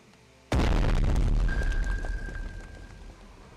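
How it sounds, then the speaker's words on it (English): A torpedo explosion in the naval strategy game Strategic Mind: The Pacific lands as a sudden loud boom with a deep rumbling tail that slowly fades, plus a thin high tone ringing through the middle of it. "Torpedo!"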